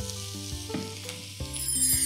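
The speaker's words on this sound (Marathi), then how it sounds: "यामध्ये हे किसलेलं गाजर पूर्ण घालून घ्यायचं" Grated carrot with dry fruits sizzles steadily in ghee in a pan for carrot halwa, close and continuous under background music, with no talking.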